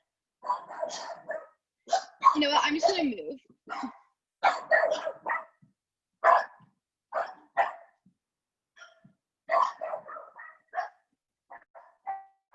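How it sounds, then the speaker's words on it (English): A pet dog barks in repeated short bursts from close by, the barks clustered and irregular with brief gaps, while someone speaks briefly over them. "Excuse my dog's barking."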